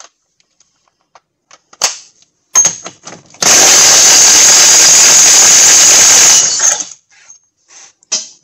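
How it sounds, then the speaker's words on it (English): Loud, steady burst of an impact wrench running for about three seconds, spinning off a front axle nut with a 33 mm socket on a 2008 Buick Lucerne, with scattered clicks and clanks of tools before and after. "let's get the axle nut off. So I'm using a 33 millimeter."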